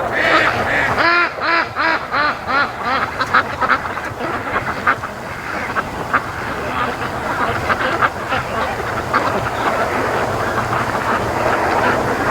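Free-range ducks on a lake quack loudly and continuously, a dense overlapping chorus close by with rhythmic bursts early on, set over steady outdoor background noise.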